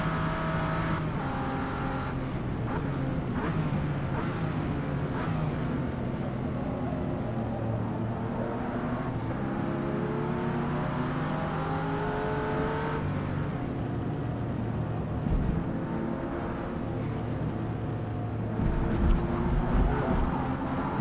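Race cars lapping a track in the video game Forza Motorsport, a sustained loud engine drone climbing and falling through gear changes, with other cars faintly audible nearby and a slight rise in noise near the end.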